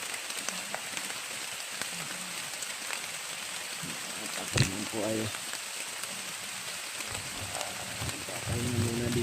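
Heavy rain pours steadily outdoors as a broad constant hiss, with people talking over it and a sharp knock near the middle.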